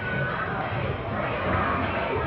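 A Portland wrestling arena crowd chants in a steady, rhythmic roar of many voices. A commentator's voice can be heard over it.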